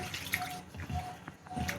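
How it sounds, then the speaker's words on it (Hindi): Starchy rinse water from washed rice is poured out of a vessel in a home kitchen, giving a brief, faint splash and trickle with a few uneven gurgles. "इस पानी को हम गिरा देते हैं।"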